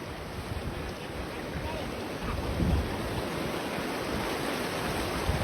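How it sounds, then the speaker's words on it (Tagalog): Swollen river rushing in a flood, a dense steady roar of churning water with wind buffeting the microphone, continuous and fairly close. "So, ang bilis lang lumaki ng ilog, no?"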